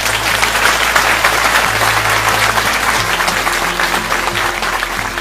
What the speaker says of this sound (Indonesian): saya minta teman-teman tepuk tangan untuk dia.